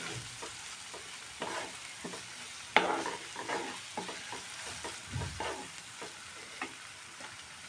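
Masala pasta sizzles in a pan while a spoon stirs it, with repeated scraping strokes and one sharp clatter against the pan, all over a steady frying hiss and no talk.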